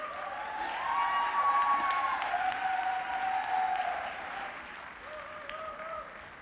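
A church congregation claps for candidates at a baptism service in Milan, sustained hall applause with some cheering rising then easing slightly, with faint tonal sounds ringing over the clapping.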